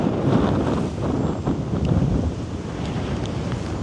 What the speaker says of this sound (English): Today is so windy and so awesome.